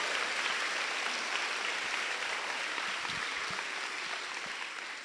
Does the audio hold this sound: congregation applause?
yes